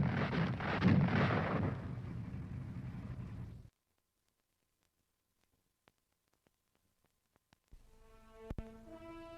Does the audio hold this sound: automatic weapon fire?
yes